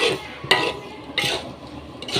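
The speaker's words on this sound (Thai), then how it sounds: "กระทะใหญ่มาก จะผัดสองกระทะนะคะ" Sizzling noodles being stir-fried in a very large wok for pad see ew, with sharp metallic scrapes of a spatula against the pan at irregular intervals.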